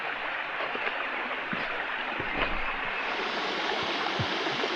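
Waterfall along a mountain trail, heard as a continuous broadband rush of falling water, steady and moderately distant.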